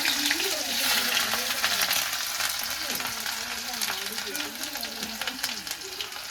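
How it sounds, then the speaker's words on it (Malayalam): Chopped ginger and garlic frying in hot oil with already-popped mustard seeds, a steady close sizzle running throughout with a voice-like murmur faintly over it. "കടുക് പൊട്ടി കഴിയുമ്പോൾ നമുക്ക് അതിലോട്ട് നമ്മൾ ഇഞ്ചിയും വെളുത്തുള്ളി അരിഞ്ഞ് വെച്ചിട്ടുണ്ട്, അതിട്ട് കൊടുക്കാം"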